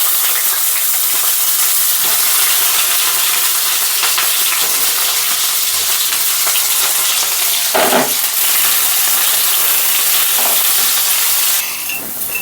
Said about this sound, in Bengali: বেগুনগুলো ভেজে নেব বিনা ঢাকা দিয়ে